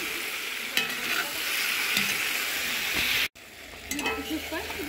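Meat cooking in a pot being stirred, a steady loud sizzle and scraping with a brief cut near the end followed by quieter bubbling and a faint voice.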